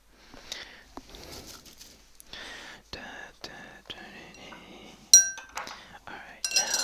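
Pumpkin seeds clinking and tinkling while a Halloween pumpkin is hollowed out, light scattered taps and sharper glassy clinks near the end, close and soft, with faint whispering throughout.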